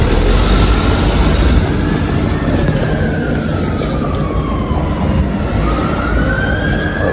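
An emergency vehicle's siren heading out on a call, a loud wailing tone sliding slowly up and down, continuous over engine and road noise.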